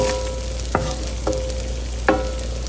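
Onions sautéing in butter in a large skillet give a steady close sizzle, and three scraping strokes come as they are pushed aside, with no talk.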